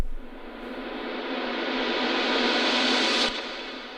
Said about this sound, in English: I recorded the lead and added a bunch of reverb